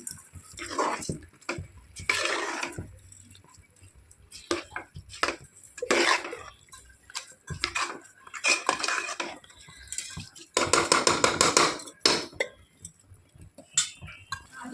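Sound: stirring black-eyed peas and rice with masala in a pot

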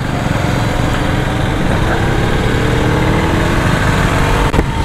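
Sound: Husqvarna Vitpilen 250 motorcycle engine riding

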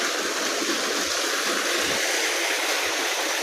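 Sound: water flowing from running farm water pump motor

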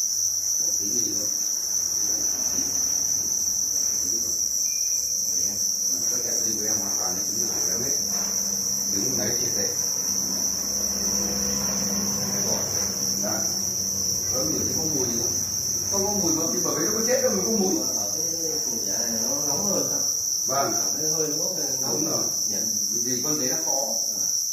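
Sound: crickets chirping at a cricket farm

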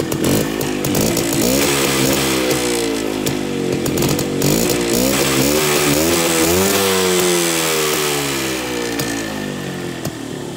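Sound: Minsk two-stroke motorcycle engine revving

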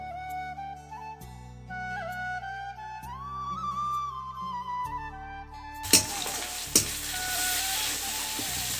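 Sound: onion, garlic and ginger paste frying for mutton curry

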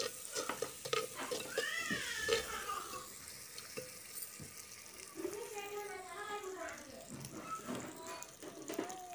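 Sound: onions frying with mustard seeds and cumin

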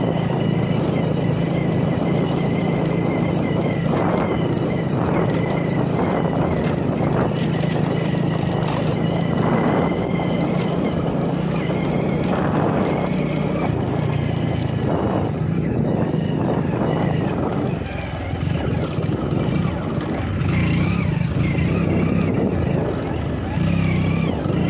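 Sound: motorcycle engine sputtering and jerking as petrol runs out

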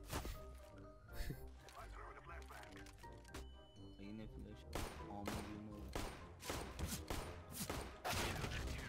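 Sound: shotgun firing in CS:GO video game

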